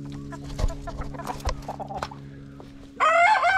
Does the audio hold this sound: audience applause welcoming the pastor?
no